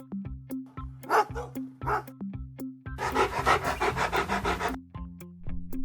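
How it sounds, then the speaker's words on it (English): A dog gives a few quick, close barks, then pants rapidly for a couple of seconds, with more short barks at the end, heard alone over a rhythmic low backing beat. "Dog."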